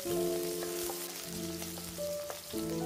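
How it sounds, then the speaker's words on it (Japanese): Chopped leeks stir-frying in hot oil in a pot over medium heat, a steady close crackling sizzle that runs through the whole moment with faint kitchen clatter, no voices. "鍋に油をひいて中火で熱したら、長ネギを入れて香りが立つまで炒めてください。"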